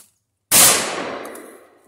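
A single sharp gunshot fired at a squirrel during a hunt with a mountain cur dog, a loud sudden crack after silence with a long ringing echo that decays through the woods.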